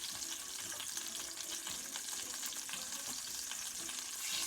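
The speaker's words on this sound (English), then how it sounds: "We're adding liquid again to keep the meat from drying out." Pork sizzles in a hot pan as liquid hits it, giving a soft, continuous crackling hiss that stays fairly quiet and steady throughout, with no talking.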